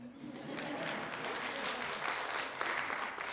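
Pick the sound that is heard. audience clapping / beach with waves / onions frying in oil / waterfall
audience clapping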